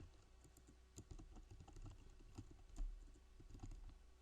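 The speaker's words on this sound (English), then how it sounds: "let's go ahead and type social media" Fingers typing on a computer keyboard, a run of soft, uneven key clicks and taps at close range, fairly quiet with no talking.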